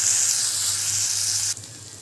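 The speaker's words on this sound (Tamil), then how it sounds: "நல்லா வதக்கு வதக்குன்னு வதக்கிக்கலாம்" A paste of ground garam masala, cumin and fennel is sautéed in a pan, giving a loud, steady hiss that drops off sharply near the end.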